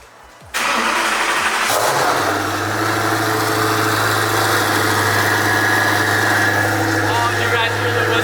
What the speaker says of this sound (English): you guys hear the whistle in the turbo?